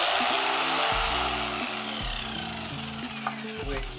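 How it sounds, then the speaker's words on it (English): Power drill from Argos working on thick quarry floor tiles, a steady loud grinding whir with pulsing rhythmic bursts and shifting pitch, continuous across the whole stretch with no talk. "I think this drill is from Argos"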